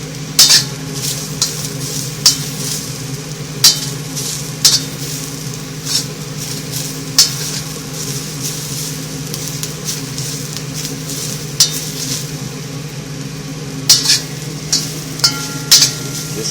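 Onions frying in a wok on an electric stove during wok seasoning, with a steady low sizzle under repeated sharp metallic scrapes and clanks of stirring at irregular intervals, loud and close.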